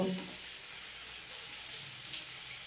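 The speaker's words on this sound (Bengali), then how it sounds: "দুই থেকে তিন মিনিট মিডিয়াম টু লো ফ্লেমে এটা নাড়াচাড়া করে নেব" Tomato and onion masala stirred in a pan over a medium-low flame, giving a steady, soft, close sizzle with faint stirring scrapes throughout.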